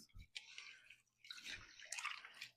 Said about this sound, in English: I'm actually washing the rice.